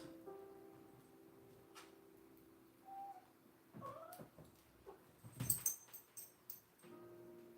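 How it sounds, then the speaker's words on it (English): A cat makes a few quiet meows and whining cries in a calm room, with soft rustling and a brief burst of sharper sounds. "The cat is here."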